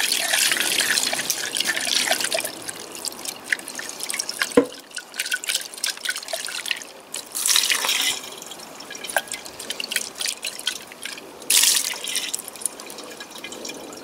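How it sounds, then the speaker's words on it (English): Clean diesel sloshes and drips as a Massey Ferguson 135 tractor air filter is rinsed, a steady close trickle of splashes and drops with occasional louder swishes and a small clunk, no talk. "I'll just put some clean diesel in and give it a rinse"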